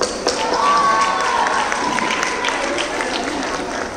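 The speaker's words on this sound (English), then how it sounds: "Give them a big round of applause" An audience at a girls' school event claps together, a dense burst of applause that swells early and then fades, with a few crowd murmurs mixed in.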